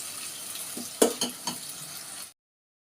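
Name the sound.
onions frying in a pan, stirred with a spoon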